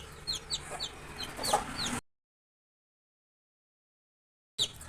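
A chicken chick being chased clucks and peeps in a rapid run of short, bright calls. The calls cut out into silence, then one more call follows near the end.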